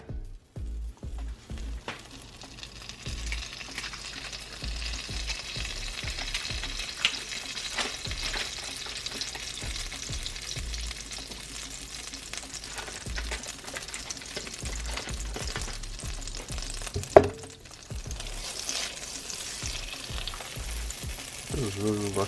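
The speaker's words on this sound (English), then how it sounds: "we're going to put our 2 sticks of unsalted butter in a pan" Two sticks of unsalted butter melting in a pan for a homemade sauce: a steady, close crackling sizzle with rapid spattering pops runs throughout, with one sharp knock near the end.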